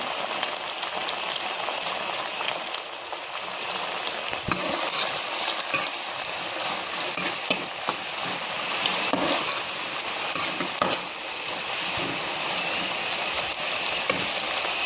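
Spice powder frying in hot oil for carrot rice, a steady dense sizzle with occasional stirring scrapes and small pops, close and continuous without any talking.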